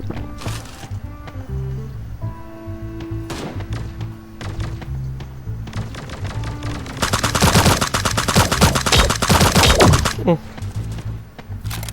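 Gunfire in the video game Sausage Man, scattered single shots and thumps giving way to a dense, loud burst of rapid fire, with a voice speaking over it.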